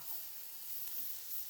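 Peppers and onions frying in a pan over a fire give off a steady, quiet sizzle with a soft continuous hiss, with no voices.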